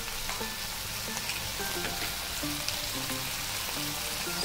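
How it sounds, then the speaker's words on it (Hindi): Soy sauce frying into a vegetable Manchurian gravy in a pan, a steady even sizzle and crackle held close and continuous, with light stirring knocks underneath. "सोया सॉस 1 चम्मच। हमें इसे फ्राई कर लेना है ऐसे ही।"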